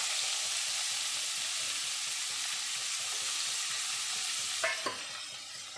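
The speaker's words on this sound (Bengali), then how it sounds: "একটু পেঁয়াজটা লাল লাল করে ভাজা করবো।" Onions sizzle steadily in hot oil with bay leaf and nigella seeds, a continuous bright frying hiss with rapid faint stirring ticks, then two sharper scrapes of a spatula near the end; no talking.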